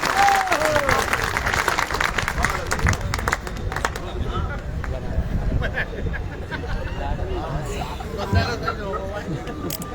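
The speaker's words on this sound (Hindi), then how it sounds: "मैं चाहता हूँ एक बार पूरा सदन ताली बजाए" Applause and clapping from an audience at a stage show during a Teej fair festival in Sirsaganj, broad rattling claps spread across the whole stretch, mixed with crowd murmur and a speaking voice over it.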